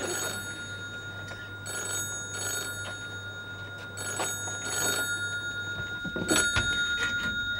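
A telephone rings inside a phone box in repeated double bursts of bright electronic trilling, fairly close, with a low hum underneath and a shift in background noise near the end.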